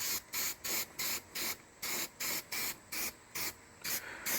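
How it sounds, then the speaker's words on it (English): Rust converter sprayed from an aerosol can during a 1979 GMC C15 radiator support repair: a steady series of about a dozen short, even hissing bursts, close and loud, with brief gaps between them. "Get a little pre-spray out of it."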